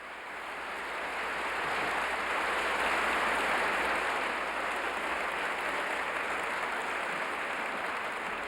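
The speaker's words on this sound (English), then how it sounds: "I really don't know why you are clapping." Lecture audience clapping in sustained, dense applause that swells and holds steady for several seconds, with no voices over it.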